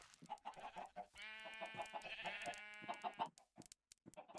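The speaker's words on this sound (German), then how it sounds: "Ey, ihr blöden Hühner, ihr!" Minecraft chickens cluck in a quick run of close, clear calls, with a sustained squawking stretch in the middle and no talking.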